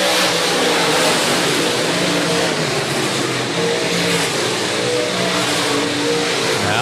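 Stock cars and late models roar around a dirt speedway in a feature race, a dense, loud, continuous engine drone from several cars at once, with a commentator's voice faintly mixed in.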